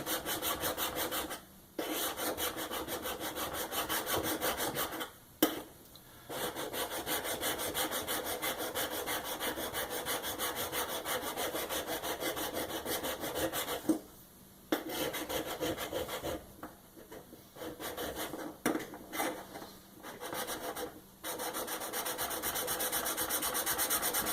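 A sharpening stone rubs back and forth to flatten a Marlin Model 60 rifle part, producing continuous close rasping strokes with a few brief pauses.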